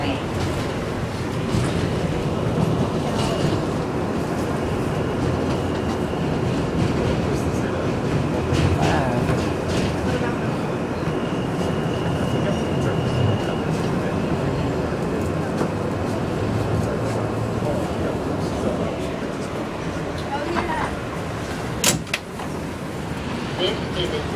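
An R160B N local subway train at Queensboro Plaza station gives a steady, loud rumble and rattle that fills the whole stretch, with a brief sharper squeal near the end.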